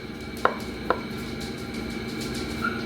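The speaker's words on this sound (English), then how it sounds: "I'm still finding quite big chunks of olives, so I'm still chopping." A couple of sharp knife taps on a cutting board as olives are chopped stand out against a quiet room, sparse and close.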